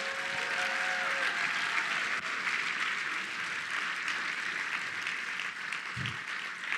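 An audience at a charity gala applauds, a sustained wash of clapping from many hands that holds steady throughout, heard from within the room.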